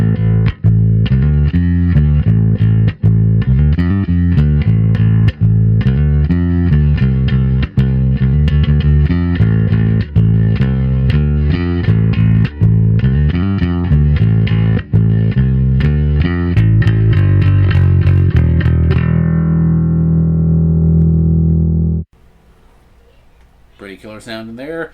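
A bass guitar on its neck pickup plays a steady riff through a Line 6 Helix amp model, rounded and warm, then a sustained note rings out and cuts off near the end.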